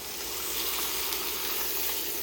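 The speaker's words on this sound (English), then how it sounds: "You should hear a strong, steady sizzle, not a weak hiss in a heavy bottom pan." Beef sears in a heavy-bottomed pan with a strong, steady sizzle, a continuous bright hiss close by and alone, for a Guinness-braised Reuben.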